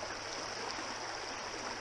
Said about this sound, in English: Got that fast water moving into some soft water with a little bit of cover.